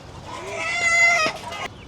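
A mother hen and her chicks, with a rooster nearby, cluck loudly and close by, with a short rising crow-like call in the middle. There are no voices.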